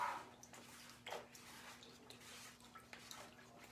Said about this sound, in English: So I'm just washing it in a tub of water here.